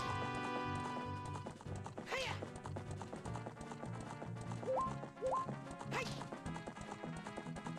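Rhythmic hoofbeats from a galloping horse in the Zelda Spaceworld '97 beta game continue throughout, mixed with game music and a couple of brief whinny-like cries.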